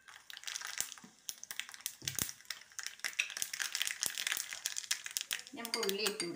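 Mustard seeds splutter and pop in hot oil while tempering a bitter gourd theeyal curry, with a quick irregular patter of sharp crackles that continues steadily, at moderate volume.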